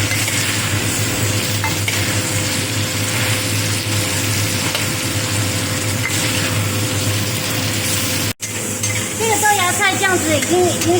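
Bean sprouts being stir-fried in a hot pan for fried rice vermicelli: a loud, continuous sizzle with scraping and stirring close by, a brief drop-out near the end, then a voice speaking over the frying.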